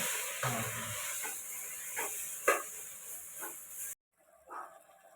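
Potatoes added to a hot pan for aloo sabzi at home, giving a close, steady steamy hiss with a few stirring clacks before the sound cuts off abruptly near the end.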